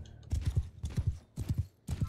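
Horses in the Mount and Blade Bannerlord video game clip-clop in quick galloping bursts, four clusters of close, loud hoofbeats separated by short pauses.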